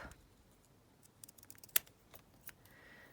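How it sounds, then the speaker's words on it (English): Scissors snipping paper edges while trimming a handmade altered box, a scattering of quiet, brief cuts with one sharper snip partway through, close and soft. "Just going to trim up these edges"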